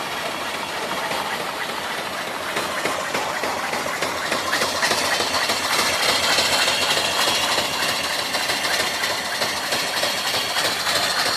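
A small reversing steam engine fed by an off-grid steam boiler runs steadily, giving a continuous close, loud mechanical chuffing and clatter with a fast, even rhythm and no talking.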